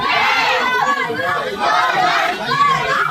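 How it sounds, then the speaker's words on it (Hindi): Dense crowd of Shiva devotees on the Bol Bam yatra pilgrimage, a steady roar of many voices chanting and shouting together, loud and close throughout with overlapping cries and chatter. "देखो भोलेनाथ की कृपा से सब भीड़ भाड़ है अभी"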